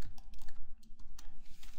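Rapid, continuous typing on a computer keyboard while entering JavaScript code, a steady run of close, crisp key clicks with no voices.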